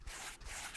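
The soft foam side of a kitchen sponge is scratched in a brief, continuous rub, with a close, dry, brushing texture and no voice.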